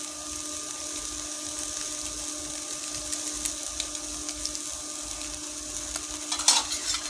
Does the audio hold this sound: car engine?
no